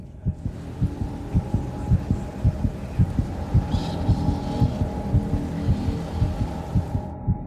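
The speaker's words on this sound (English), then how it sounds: "causing my body to make the sound of my heart beating" A steady, thumping heartbeat, close and loud, repeating at a regular pace over a low hum throughout.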